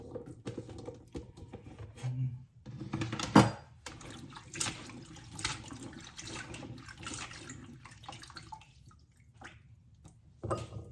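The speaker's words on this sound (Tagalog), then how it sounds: "Ngayon hugasan natin yung ating gulay guys. Hugasan natin para malinis." Vegetables being washed under a running kitchen tap, uneven splashing and trickling water with handling noises, louder bursts as the produce is moved through the stream.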